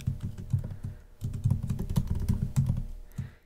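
Someone typing JavaScript on a computer keyboard, a quick stream of soft close key clicks with a brief pause partway through.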